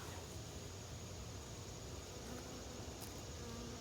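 Honey bees buzzing steadily at an open hive during an inspection in August, a dense, continuous insect hum filling the air at moderate distance with no talking.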